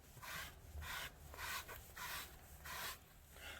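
Analan pet hair removal tool sweeping horizontally across upholstery, giving a soft, rhythmic scraping rub in about six even strokes, quiet and close.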